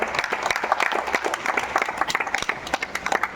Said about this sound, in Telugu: అందరికీ కూడా ఫస్ట్ మనం క్లాప్స్ కొని వాళ్ళని ఎంకరేజ్ చేయాలి